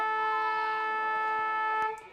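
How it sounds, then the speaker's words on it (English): Football ground siren for quarter time in a local match, a sustained steady tonal wail heard at moderate distance that fades out at the end, with no talking over it. "As the siren sounds for quarter time"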